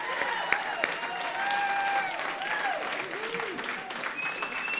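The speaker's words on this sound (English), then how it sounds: "That's a nice round of applause" Audience applause at the 2014 XRT Music & Movies Poll, sustained clapping with whistles and cheers, crowd noise steady throughout.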